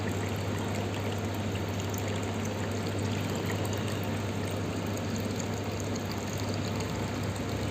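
A Sobo WP-208H hang-on filter pump pours water like a small waterfall, a steady, continuous rushing fairly close, with a low mechanical hum underneath.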